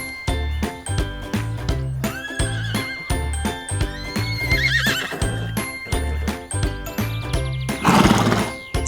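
Several shorter horse whinnies rise at intervals over a steady clip-clop of hoofbeats, with a brief jingling burst near the end.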